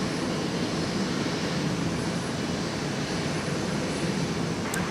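An international passenger airliner taxis at Minneapolis–St. Paul Airport after landing, its engines giving a steady, broad roar that holds at an even level throughout, with no talk.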